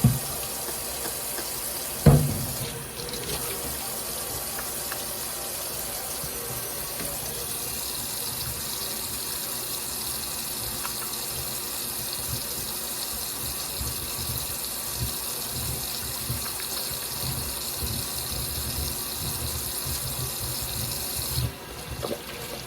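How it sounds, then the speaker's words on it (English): A kitchen tap runs steadily while hands are washed with antibacterial soap, a continuous close splashing stream with a brief knock near the start and the flow cutting off at the end. "the first thing I'm gonna do is I'm going to wash my hands"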